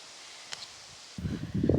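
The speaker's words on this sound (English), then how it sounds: "It's a little bit windy here today" Wind stirs leaves outdoors at a barn: near-silence, then a soft, brief rustle that rises over the last half-second.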